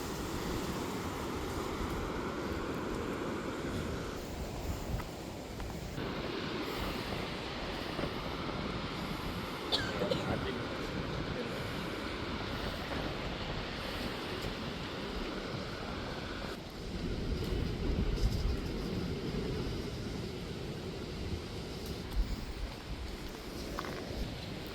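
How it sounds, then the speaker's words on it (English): Ocean waves roll in under a steady, gusting wind at a mountainside spot by the sea: a continuous broad roar that swells and eases, with wind buffeting the microphone. "I love to just sit and listen to the ocean."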